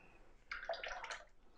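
Water is brushed and splashed onto a watercolour landscape painting, a brief faint trickling and dabbing burst lasting under a second, close and quiet, with no talk.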